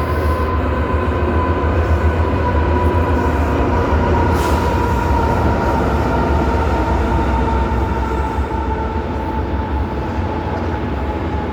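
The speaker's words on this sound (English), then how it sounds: "there's the train." A train passes close by, a loud, steady rumble of wheels and cars on the rails that holds through the whole stretch with no break and no voices.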